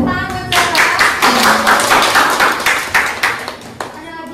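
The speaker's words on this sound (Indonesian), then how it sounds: "Boleh tepuk tangan." A classroom of students claps in a loud, close burst of many hands, with individual claps audible in an uneven rhythm, plus faint voices at the start before it tapers off.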